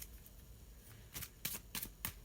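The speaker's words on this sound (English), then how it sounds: "let's just have a little shuffle" Tarot cards being shuffled by hand, a few quick riffling bursts of papery flutter close by, separated by brief pauses, with no talking.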